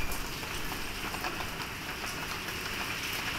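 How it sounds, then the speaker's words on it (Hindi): The first rain of the season falls on a Delhi lane as a steady, even hiss of drops pattering on surfaces at moderate volume, with no voices. "दिल्ली में आ गई बारिश"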